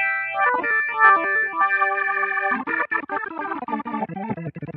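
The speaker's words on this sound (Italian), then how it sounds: "è il classico KB3 di Kurzweil, che è un clone Hammond" Kurzweil Forte SE playing its KB3 Hammond-clone organ, sustained drawbar chords with a swirling chorus-like rotary effect giving way to quicker, choppier chord stabs, alone and fairly loud.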